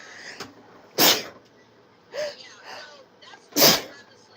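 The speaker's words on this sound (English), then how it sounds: "I'm gonna sneeze." Two loud, close sneezes a few seconds apart, with a softer breathy catch between them in an otherwise quiet room.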